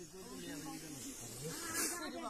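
An old snake with a large raised hood hisses in a steady, breathy rush close by, and voices talk over it the whole time.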